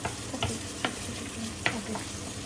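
Food fries in a pan with a continuous close sizzle, and a few sharp clicks of stirring or scraping stand out; there is no talk.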